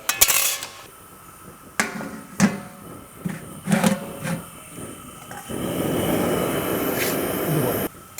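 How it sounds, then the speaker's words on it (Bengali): The metal lid of a pot of khichuri is handled and lifted off, producing several sharp clanks and knocks, followed by a steady, hissing sizzle from the pot. "তা আমি ঢাকাটা খুললাম"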